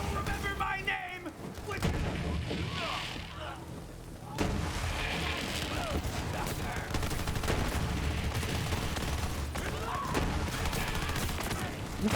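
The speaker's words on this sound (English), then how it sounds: "Who the fuck is shooting me?" Dense gunfire and booming shots from a Borderlands 3 firefight with an incendiary and cryo weapon build, continuous and loud throughout, with a voice talking over the shooting.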